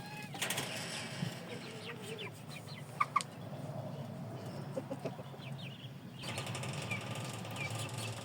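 Shamo chickens startled by a prowling cat, beating their wings in scattered flurries with nervous clucks, close by, with a fuller burst of flapping toward the end.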